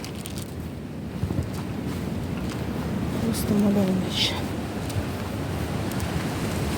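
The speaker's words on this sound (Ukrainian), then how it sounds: "Вітер такий." Steady outdoor wind rumbles and buffets the microphone throughout, with a person speaking briefly over it.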